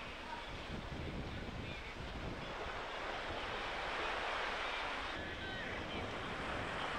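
Steady wash of surf rolling onto a beach beside a restaurant, continuous and moderately distant, mixed with wind buffeting the microphone.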